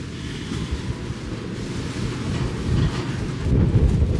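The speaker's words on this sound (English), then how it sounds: "Bit windy out here." Strong wind buffets the microphone on a boat's open sun deck and smoking area, giving a low, steady roar that builds into louder gusts toward the end.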